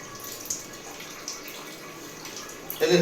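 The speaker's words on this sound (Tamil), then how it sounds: "நிறையா தண்ணி முதுகில் நிறைய ஊற்றுங்க" Water poured over a Persian cat during a bath at home, a steady splashing trickle running through the whole stretch that ends in a louder gush, with faint voices in the background.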